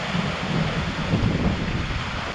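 Heavy rain and gusting wind during Typhoon Opong in a rural Philippine province, a steady dense roar of downpour and wind buffeting the microphone throughout, loud and close with no voices.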